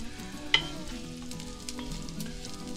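Bacon frying in a pot, a quiet, steady sizzle close by with one sharp pop or clink near the start and faint crackles after.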